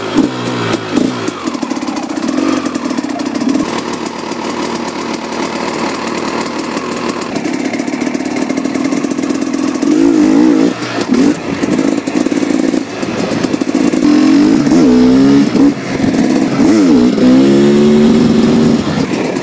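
ZM Tracer 300 2T two-stroke motorcycle engine revving loud and close, pulling up through the gears from third at low speed, with a sustained buzzing drone that climbs and surges in pitch over the final seconds.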